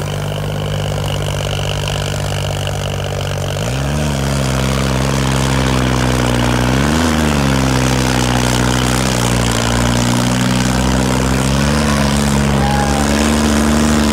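Tractor engine running hard at a tractor competition with fire coming out of the silencer: loud, continuous low engine drone that rises in pitch about a third of the way in and holds with slight surges, no talk.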